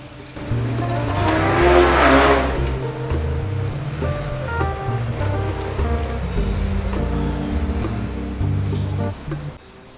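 A Toyota GR Yaris with four-wheel drive rolls out of a shop and its engine note swells to a loud, close rumble, then settles into a steady, throaty drone that sounds like it is pulling away, with no voices.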